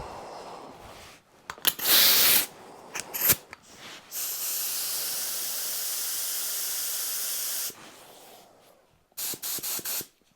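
Bursts of hissing spray from a cheap paint spray gun at about 15 PSI, first short test blasts, then a long steady hiss, followed by several quick spurts.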